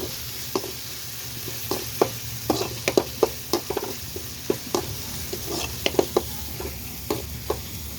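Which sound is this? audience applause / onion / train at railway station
onion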